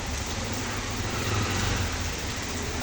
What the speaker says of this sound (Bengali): এবছরের প্রথম বৃষ্টি দেখেন সবাই